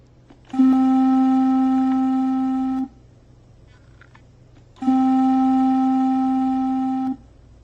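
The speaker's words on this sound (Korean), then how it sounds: "다음으로는 플룻 소리를 들어보도록 하겠습니다." Two held flute-like tones, pure and steady, each lasting a couple of seconds with a quiet pause between.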